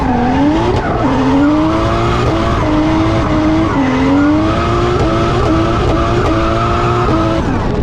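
A drift car's tires squeal and skid continuously under a loud, revving engine, the pitch sliding up and down as the car drifts, close and intense.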